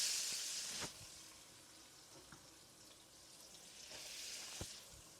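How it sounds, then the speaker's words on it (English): Onion sautéing in a pan of seasoning for a Jamaican eggplant takari, a steady soft sizzle with a brief louder burst near the start and a few light utensil taps, no talking. "saute a little onion"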